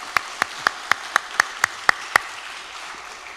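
A church congregation claps in unison during a Sunday service, nine sharp, evenly spaced claps about a quarter second apart, crisp and prominent, then stopping.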